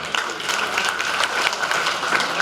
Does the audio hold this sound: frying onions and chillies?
no